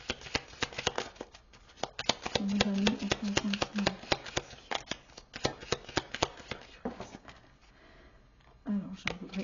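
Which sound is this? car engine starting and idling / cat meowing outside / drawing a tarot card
drawing a tarot card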